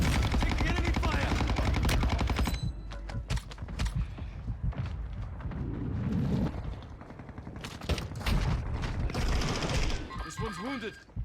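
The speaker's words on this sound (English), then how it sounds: "Taking enemy fire!" Enemy gunfire in Warzone 2.0 on Ashika Island, rapid bursts of automatic shots and sharp cracks over dense game action sounds, loud and near, with voices talking at times.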